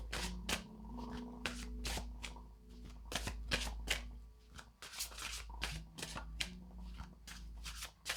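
A deck of tarot cards being shuffled close up, with rapid riffling and crisp card slaps in quick repeated bursts over a faint low background hum.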